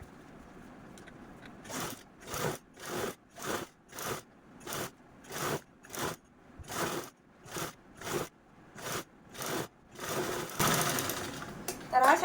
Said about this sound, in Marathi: आपण या झिपवरती म्हणजे कडेकडेने स्टिच करून घेतलेली आहे